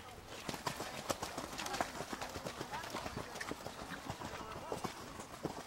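Rhythmic hoofbeats of a horse cantering in a dressage arena during a flying-change lesson, a steady three-beat clip-clop close by, with a voice speaking over it.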